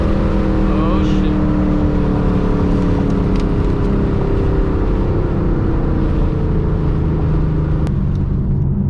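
A Mustang Shelby GT500 with a smaller supercharger pulley and Lund tune revs hard at wide open throttle, a loud, close, sustained engine roar with a rising whine throughout.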